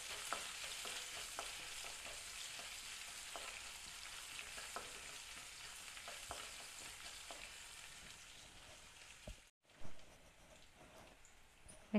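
Chopped onions frying in a pan with a little salt for potato masala, giving a soft, fairly quiet continuous sizzle with light stirring scrapes and a brief pause near the end.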